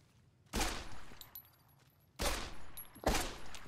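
Three sharp 10mm pistol shots from Fallout New Vegas ring out, the first alone and the last two closer together, each with a short echoing tail over a quiet background.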